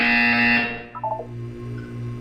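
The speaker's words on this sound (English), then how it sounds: "You will hear a buzzer." Electronic buzzer in the Portal 2 video game, a loud steady harsh tone that cuts off after about half a second, followed by a few short blips and a low lingering hum.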